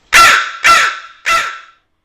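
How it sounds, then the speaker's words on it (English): A crow in the text adventure game Suds gives three loud, harsh caws in close succession, each a raspy shriek that fades quickly, with silence after the last. "you've stoned the crow. With a startled shriek, it flies off, leaving the road to the west clear."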